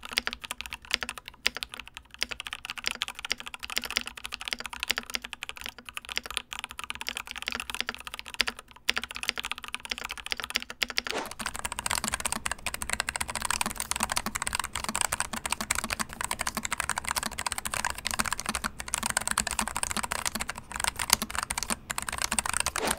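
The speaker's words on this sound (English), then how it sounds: "I'll throw in a sound test of both of these guys in case you're wondering what they sound like." Steady typing on ASIO Cascade Slim low-profile mechanical keyboards, close and continuous clacking keystrokes, a lighter thinner tone for the first half and a brighter, denser clatter after the switch to the second board.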